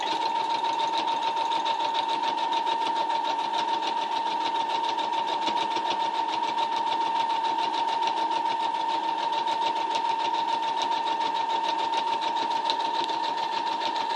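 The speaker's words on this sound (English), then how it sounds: "hold it to where it'll sew it straight" A sewing machine stitches a fabric pocket bow, running steadily and close for the whole stretch with a fast, even mechanical whir and rattle and no pauses.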